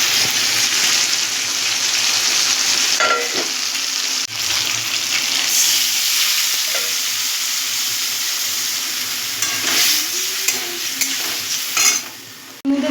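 Potatoes coated in ground ginger, chilli paste, cumin and coriander powder sizzle and fry steadily in a pan with a splash of water, with stirring scrapes throughout and no talking.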